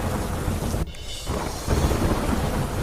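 Thunder rumbles through steady heavy rain under dark storm clouds in Ramgarh, Jharkhand, a dense close wash of rainfall with a brief dip before a louder rolling burst.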